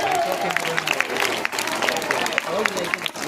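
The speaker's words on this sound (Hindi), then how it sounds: "कृपया जोरदार तालियां बजाते रहे।" Audience applause at a staged storytelling and acting performance about a woman's life, steady clapping from a crowd mixed with an announcer's voice over it.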